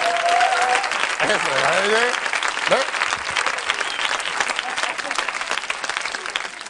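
A television studio audience applauding steadily, dense continuous clapping that fills the whole stretch while someone talks over it.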